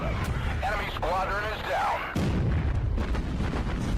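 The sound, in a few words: warship explosion in Battlestations Pacific video game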